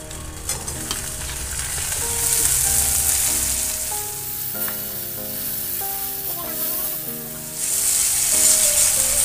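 Tomato frying in a pan for baingan bharta crackles with a dense, continuous sizzle, close and loud, stirred along the way, while soft music plays underneath.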